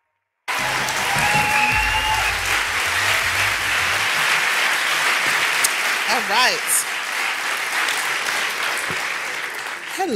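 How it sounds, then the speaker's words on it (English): Sustained applause from a large audience at a university talk welcomes the guest speaker onto the stage. It is loud and dense at first, then thins out and fades toward the end, with a few voices heard among the clapping. "Let's give her a round of applause."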